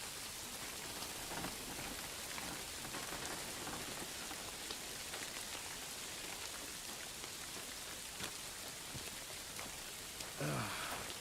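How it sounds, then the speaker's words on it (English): Heavy rain pours steadily in the medieval role-playing game Kingdom Come: Deliverance II, a dense, unbroken hiss of drops drumming on surfaces that holds the same level for the whole stretch. "Pissing down rain again."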